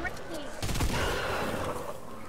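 Rapid burst of gunfire from the video game Fortnite, a dense volley of shots packed into about a second, loud and close, followed by lingering game noise with players talking over it.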